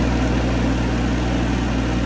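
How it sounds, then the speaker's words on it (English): A KU SCL 1000 mini skid steer engine idles up with a steady, continuous low drone and a constant hum, running alone at moderate loudness throughout without any talk. "Say you got it idled up."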